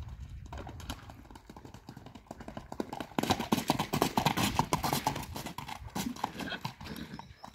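A horse trots along, its hooves giving a steady clip-clop rhythm that grows louder and closer halfway through, with faint outdoor background around it.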